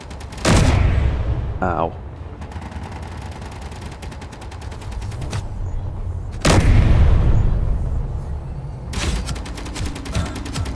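Gunfire from weapons in the game Space Engineers: bursts of rapid automatic shots and heavy booms, loud and close, with a brief exclamation from a player among them.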